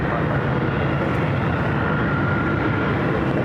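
A Boeing 777 airliner arriving at LAX makes a steady, broad roar that holds at an even, fairly loud level throughout.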